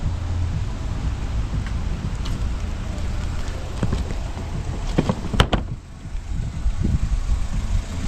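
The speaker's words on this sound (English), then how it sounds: "No, the rain! The rain!" Rain falls during a thunderstorm around a 1987 Mazda B2000 pickup, a steady patter on surfaces with scattered sharp drips and knocks, the shower holding constant except for one brief dip.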